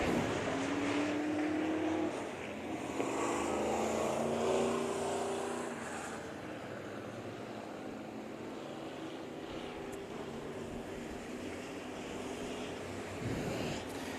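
Race cars roar around the Bakersfield Speedway oval in a heat race, engine drone rising and whining as cars pass, then settling into a fainter, more distant rumble mixed with crowd and track ambience.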